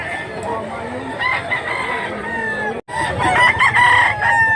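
A white leghorn hen and rooster nearby: repeated clucking and a loud crow stand out over steady farmyard background, with people talking quietly underneath.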